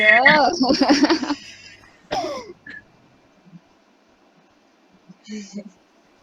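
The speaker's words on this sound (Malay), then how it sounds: "Maaf saya batuk." A speaker in an online Malay-language webinar coughs and clears his throat in a short burst at the start, followed by a second brief cough, then near silence with faint sounds.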